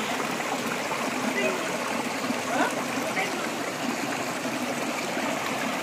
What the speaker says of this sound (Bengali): আর ঠিক এই ঝর্ণার আওয়াজই সর্বক্ষণ আসে।